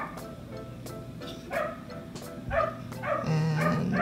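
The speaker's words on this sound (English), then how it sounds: "there are sounds from the neighbor's dog barking" A neighbor's dog barks several times at irregular intervals, moderately distant, over a steady low background hum in a home.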